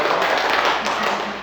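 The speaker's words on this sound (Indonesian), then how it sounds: "Silakan tepuk tangan untuk kelompok" Classroom applause for a student group, a dense continuous wash of many hands clapping close by at steady loudness for a moment.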